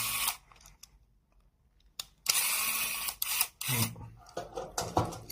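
Screws being removed from a Mercedes W213 steering wheel button: close, irregular clicks, scrapes and handling noises from a small screwdriver, alone with a quiet pause near the start.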